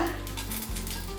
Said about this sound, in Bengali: এবার ফোড়ন দেবো শুকনো লঙ্কা